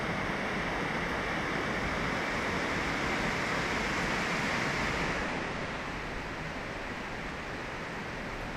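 Heavy rain pours steadily, a dense, loud hiss of downpour that holds constant for several seconds before easing slightly toward the end.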